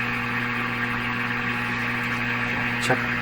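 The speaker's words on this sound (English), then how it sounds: "we're going to turn up the radio volume. This is going to get noisy here." Steady hissing static from an RCA Victor A38 shortwave tube radio with a low electrical hum underneath, continuous and fairly loud, no voices.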